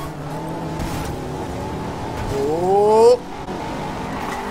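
A Honda S2000 in the racing game Forza Horizon 2 brakes hard, its engine drone rising into a sharp tire squeal that cuts off abruptly, with a voice exclaiming over the car noise.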